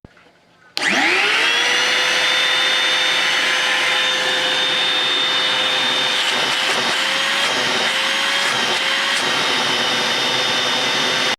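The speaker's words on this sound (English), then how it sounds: "So it's a vacuum. It's going to make a lot of noise." A Harbor Freight Central Machinery 2.5 gallon wet/dry shop vacuum switches on with a quick spin-up, then holds a loud, steady motor roar and high whine for about ten seconds before cutting off.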